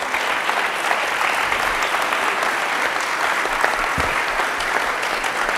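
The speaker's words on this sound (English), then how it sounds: "One more round of applause for our panel." An audience claps steadily for a panel at a race and equity forum, dense continuous applause from a sizable crowd with no talk over it.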